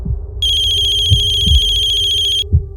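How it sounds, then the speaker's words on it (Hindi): A mobile phone rings with an incoming call from mom: a loud, high, rapidly pulsing electronic ringtone that lasts about two seconds, with a few soft thumps and movement sounds underneath. "मम्मी का फोन।"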